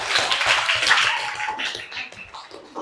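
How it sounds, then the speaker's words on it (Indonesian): A classroom audience claps for a student group after its presentation in an Islamic education lesson, a dense steady patter of many hands lasting throughout, fairly loud and close. "Boleh beri tepuk tangan untuk kelompok Abu Bakar."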